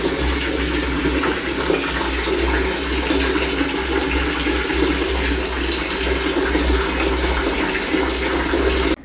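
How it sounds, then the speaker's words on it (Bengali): Water pours and splashes over an animal during a bath and shampoo, a loud, continuous rush of water close by that runs without pause and cuts off sharply at the end. "তোমাদের ম্যানেজার এখন চান করছে। জল দিয়ে ভেজানো হয়েছে,"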